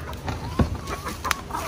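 A few soft clucks from native chickens nearby, short scattered calls over a quiet background.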